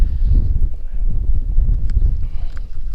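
Strong wind roars and buffets a microphone out on the water during a kayak bass-fishing tournament, a continuous low rumble with no speech over it.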